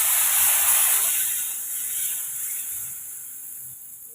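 Ragi dosa batter poured onto a hot dosa pan on high flame, giving a strong close hiss of sizzling that fades steadily over a few seconds, heard alone.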